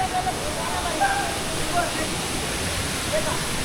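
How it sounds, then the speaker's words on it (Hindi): A small waterfall at Upper Ghaghri in Netarhat, Jharkhand, spilling into a pool-like basin, gives a steady broadband rush of falling water, moderately near and even throughout, with faint voices mixed in. "जहाँ पे पानी की धारा की आवाज़ सुनाई देगी आपको।"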